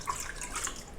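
Milk pours into a mixing bowl while wet ingredients are combined for chiffon cupcake batter, a soft, close trickling splash lasting about a second.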